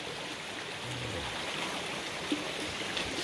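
River water flowing steadily in a continuous soft rush, fairly quiet and even, with a brief low tone near the start and no voices.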